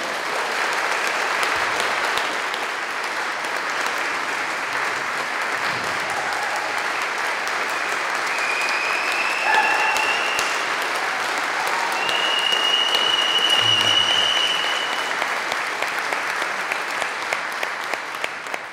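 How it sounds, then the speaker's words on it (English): A large audience applauds Jim Sillars as he comes onto the stage, with steady loud clapping that goes on for almost twenty seconds and swells slightly before easing. "I don't care if you'll still be clapping after I'm finished."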